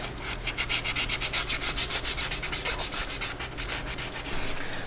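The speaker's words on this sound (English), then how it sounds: "I just kind of green scrubby off some of the corrosion here." A green scrubbing pad rubs corrosion off metal on an oil-leaking Kia Sedona, in fast rhythmic back-and-forth strokes that are close and steady.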